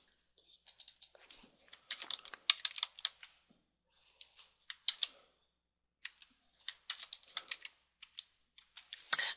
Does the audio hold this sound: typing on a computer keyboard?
yes